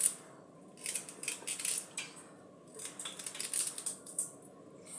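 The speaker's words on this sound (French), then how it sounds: "vous prenez le gingembre, vous découpez en petits morceaux comme ça aussi" Ginger being cut into small pieces with a knife, giving a series of light, crisp close-up cuts in short irregular bursts with brief pauses, alone without talk.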